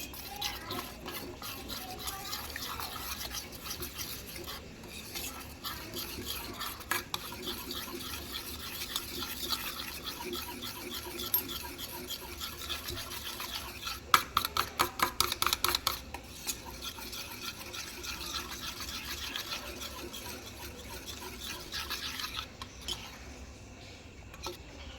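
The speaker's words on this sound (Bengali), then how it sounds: "আমি একটা হুইস্কের মাধ্যমে আমি এটাকে ভালোভাবে ফেটিয়ে নিচ্ছি।" Dhokla batter being beaten by hand with a whisk in a bowl, a fast continuous rattling scrape against the sides with brief louder bursts of clinking, close and steady.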